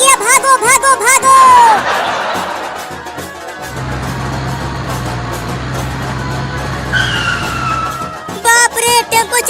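A tempo carrying a large DJ sound system drives past with a steady, mid-loud engine drone and road noise, after excited voices shouting and before more chatter resumes.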